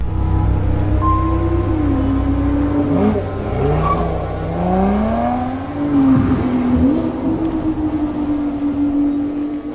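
A Ferrari engine revs in a teaser for The Crew Motorfest racing game. It sounds like a loud, close engine note that climbs and falls through several revs over a low rumble, with no talking.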